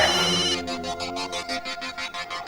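A phone ringtone chimes in a steady repeating pattern of bright pulses, following a brief tonal musical burst at the start.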